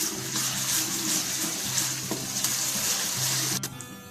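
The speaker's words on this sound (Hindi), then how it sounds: "लहसुन अदरक अच्छे से फ्राई हो चुका है।" Steady sizzling of garlic ginger paste frying in hot oil, with occasional stirring scrapes and a low hum beneath, continuous throughout.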